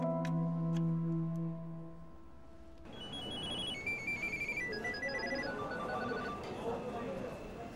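A telephone rings with a steady electronic ringtone, several clear tonal bursts at close range, followed by a phone conversation and chirpy melodic tones under background noise.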